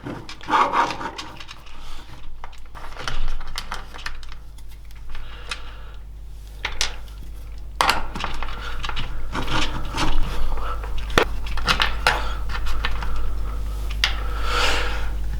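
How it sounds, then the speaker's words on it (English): A 5mm Allen key backs two bolts out of the stock fender on a 2023 CFMOTO 450SR, with close-up metallic clicks, ticks and rasping turns that come in irregular bursts. "we're going to start by taking our 5mm Allen key and removing these 2 bolts"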